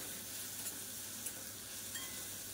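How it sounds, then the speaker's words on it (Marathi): Chopped onion frying in hot oil in a kadhai, giving a steady, soft, continuous sizzle with faint crackles and an occasional clink, alone and quiet throughout. "तेल गरम झाल्याच्या नंतर चिरून घेतलेला कांदा, आता कांदा आपल्याला मस्त गोल्डन ब्राऊन होऊ द्यायचा आहे"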